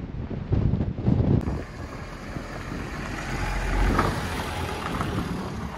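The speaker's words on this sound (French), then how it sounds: "il y a beaucoup de vent, donc c'est le vent" Strong wind buffets the microphone on a hiking trail at Fontainhas on Santo Antão, a steady roaring rush that swells and eases, with a brief voice at the start.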